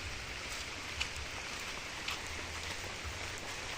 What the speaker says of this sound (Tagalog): Bigla ang ulan.